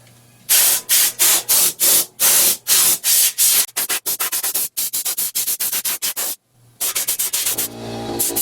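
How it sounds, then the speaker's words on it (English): A Harbor Freight long blowgun on a remnant air hose fires rapid, loud bursts of compressed air, a quick run of sharp hissing blasts that briefly pauses and then resumes with a rougher, steadier rush. "using my Harbor Freight long blowgun"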